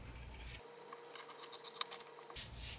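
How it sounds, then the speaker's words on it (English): Scissors cut a fabric exterior piece in half for a sewn pouch, giving a quick cluster of soft, close snips and rasps in an otherwise quiet room. "so I'm just going to cut that now."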